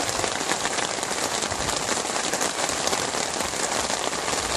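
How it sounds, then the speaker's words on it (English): Heavy thunderstorm rain pours down outdoors in a dense, loud, unbroken hiss of drops hitting surfaces, steady throughout with no voices. "It's a thunderstorm out there."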